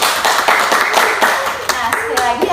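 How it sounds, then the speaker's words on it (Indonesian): Audience clapping during a university student talk event in Indonesia, a dense patter of hands under and between voices, with people speaking throughout. "Tepuk tangan dulu dong."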